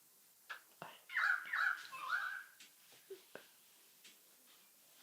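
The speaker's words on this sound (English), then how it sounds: "Magpie or a currawong? Currawong." A currawong calls outdoors, a couple of raspy, wavering croaks in the middle, faint and somewhat distant, with scattered clicks and small noises around it.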